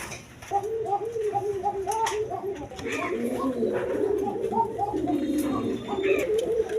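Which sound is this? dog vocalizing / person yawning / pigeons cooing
pigeons cooing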